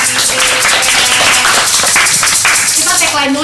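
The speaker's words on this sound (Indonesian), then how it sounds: "tepuk tangan dong" Hands clapping in applause at the close of a podcast recording, with a steady patter of claps under voices talking and laughing throughout.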